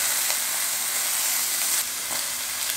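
Steak sizzles steadily as it warms in a hot pan, a continuous close hiss of frying with no break and no voices.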